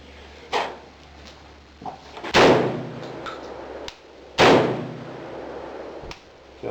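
A Remington Model 11 shotgun fires two loud, sharp reports a couple of seconds apart, with mechanical clicks and clacks of the action around them as it fails to cycle.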